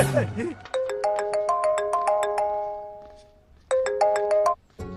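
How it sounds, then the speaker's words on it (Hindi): A mobile phone rings with an incoming call: a bright, melodic ringtone of quick repeated tone bursts, clear and fairly loud, pausing briefly before starting again, with a short voice at the very start. "भैया, आपको किसी का फोन आ रहा है।"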